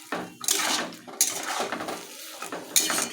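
A metal spoon scrapes and clatters against a cooking pot as potatoes, eggplant and greens are stirred together, with irregular close knocks and scraping strokes, no voices.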